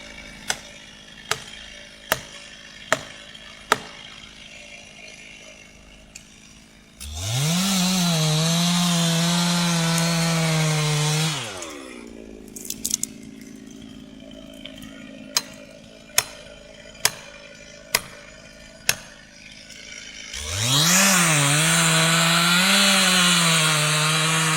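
A powerful chainsaw cutting a tree roars loudly in two long, sustained bursts, revving up and holding; between cuts come sharp, regular ticking knocks.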